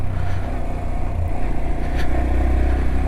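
A 2024 Honda Dax 125 single-cylinder motorcycle engine pulls steadily in low gear, a loud, close, continuous drone with rough clattering texture and no voices.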